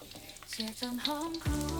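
Chicken pieces frying in oil in a Thai kitchen for garlic-pepper chicken, a soft crackling sizzle with scattered pops, while a voice talks over it.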